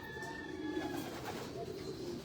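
Pigeons coo softly inside a breeders loft, low murmuring calls under a steady faint background hum.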